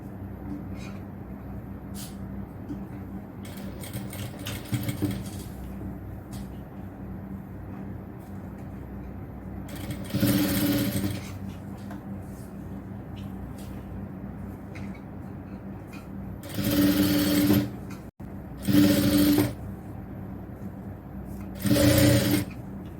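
A sewing machine stitches a fabric frill for a nighty in short separate runs, each burst of rapid whirring lasting a second or two, with quiet handling gaps between.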